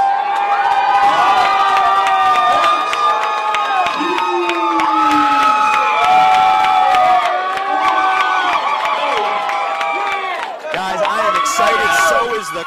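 Boxing event crowd on its feet, loud sustained cheering, whooping and shouting filling the arena without a break, with an announcer's voice speaking over the roar.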